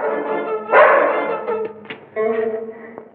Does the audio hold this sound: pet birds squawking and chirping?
no